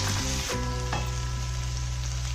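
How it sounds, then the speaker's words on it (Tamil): Cooked rice for vegetable fried rice hits a pan on full flame, setting off a loud, dense sizzle right away. A few stirring clatters follow as the frying roars steadily and close. "இப்போ நம்ம ரைஸ் போடலாம்."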